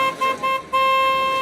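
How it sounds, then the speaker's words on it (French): A car horn gives two short toots and then one longer steady blast, close and clear, with no voices. "Arrête de klaxonner à chaque fois,"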